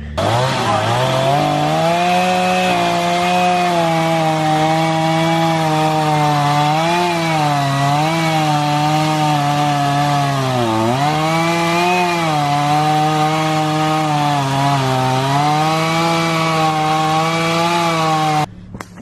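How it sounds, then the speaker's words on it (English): A chainsaw runs loud and close for about twenty seconds cutting a fallen gum tree, its steady whine dipping and rising as the blade bites into wood. "I'm definitely gonna have to cut with the chainsaw and clear the path"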